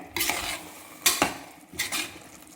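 Chicken biryani with ghee is mixed in a pot in three brisk scraping strokes of a spoon against the pot, loud and close with a faint sizzle.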